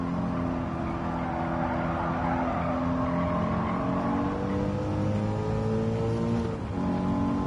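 A BMW M4 engine in a racing video game revs and pulls through the gears, a loud, continuous droning tone that climbs and dips, with a brief tyre-squeal edge near the end.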